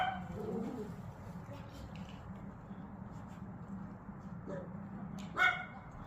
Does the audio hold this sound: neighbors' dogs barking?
yes